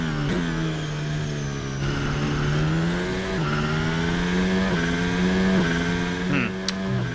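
A Formula 1 car from the F1 2024 video game screams at full throttle around the Saudi Arabian GP circuit, a loud, continuous high-revving engine whine rising and dropping briefly with gear shifts, with no talk over it.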